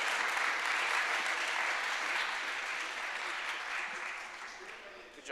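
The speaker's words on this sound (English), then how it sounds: "give it a round of applause for Luca" Sustained audience applause at a blockchain conference main stage, a dense wash of many hands clapping that holds steady for several seconds before tapering slightly, with no voices on top.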